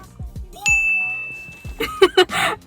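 A single bright bell ding rings out and sustains briefly amid soft thumps and whooshing effects, followed by a short burst of noisy sounds.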